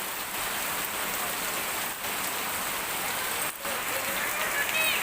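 Heavy rain pours down in Olmara after a hot spell, a dense, steady hiss of drops on surfaces that stays loud and unbroken throughout.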